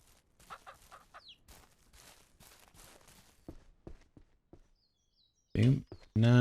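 Chickens cluck in the farming video game Ranch Simulator, short clucks and footsteps scattered over several seconds, followed by loud voiced bursts at the end.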